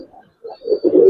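Giribaz and coloring pigeons in a loft make brief, low cooing murmurs, starting faint and swelling into closer, throaty coos.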